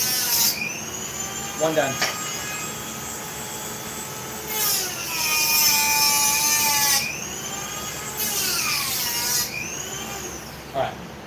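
A Dremel rotary tool cuts in several loud high-pitched whining bursts, each a few seconds long with brief gaps between, close up, with a short spoken remark near the end.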